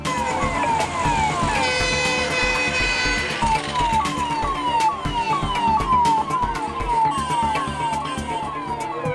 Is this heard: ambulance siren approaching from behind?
yes